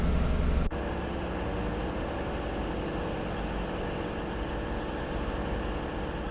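A train engine runs steadily in a train simulator game, a dense continuous rumble with a brief click near the start and no talk over it.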